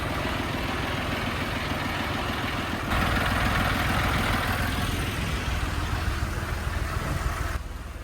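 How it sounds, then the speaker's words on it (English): A new Mercury SeaPro 200 V6 outboard motor runs steadily with a deep, throaty drone that swells louder after a few seconds, then eases back slightly near the end. No voices. "So this is a pretty new outboard, Mercury Sea Pro 200. It's the V6."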